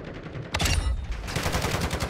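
Rapid automatic turret fire in a first-person video game shooter, a dense continuous burst of loud, close shots that swells after a brief quieter start.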